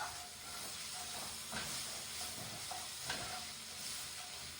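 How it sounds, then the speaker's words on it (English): Stuffing for a tofu and seitan roast stirred in a hot pan, giving a steady faint sizzle and hiss with a few soft scraping strokes, close and alone. "I'm gonna give this stuffing a stir."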